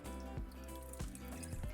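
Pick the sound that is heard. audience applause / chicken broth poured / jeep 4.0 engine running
chicken broth poured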